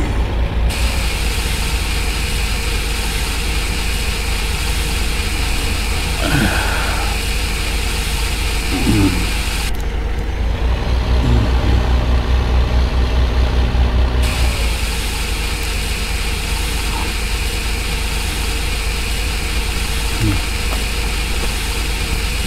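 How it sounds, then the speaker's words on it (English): A tractor engine drones heavily and continuously while drifting, a loud low rumble that shifts in tone as it revs and idles, with a voice speaking over it. "this guy seems to be pretty good drifting this tractor"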